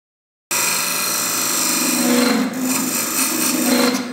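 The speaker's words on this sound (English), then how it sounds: "I can start hollowing this out and developing my expansion recess." A bark-edge birdhouse ornament is hollowed out on a wood lathe, with an expansion recess being cut; the sound starts abruptly with a loud, continuous scraping hum and rasp that swells in intensity partway through.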